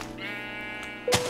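A Minecraft sheep bleats in a long, wavering cry, clear and fairly close, followed by a brief sharper in-game sound near the end.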